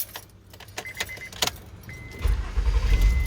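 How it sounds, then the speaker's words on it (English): A Honda car rolls into a hot garage, its engine note rising low and close in the final second, preceded by keys jangling and light clinks with no talk. "now we're gonna bring the Honda in"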